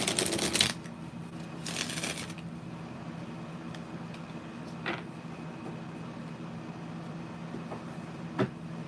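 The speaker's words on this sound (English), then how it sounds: "Let me shuffle these." Tarot cards being shuffled by hand, with two short riffling bursts near the start and then quiet apart from a few faint taps.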